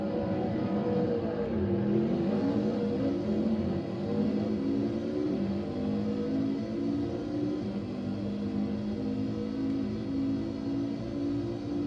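A race car engine in the TORCS racing game, run on Linux, drones steadily and loudly throughout, its pitch rising and falling as the car speeds up and shifts, with no talking.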